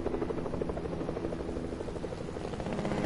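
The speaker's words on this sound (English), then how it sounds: "Here comes the helicopter." Helicopter in a video game approaching, a steady loud rotor drone with dense low chopping pulses throughout, no speech over it.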